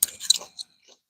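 Someone bites into a fresh red roselle calyx, giving a few crisp crunches close up, then a short quiet pause and one faint last crunch.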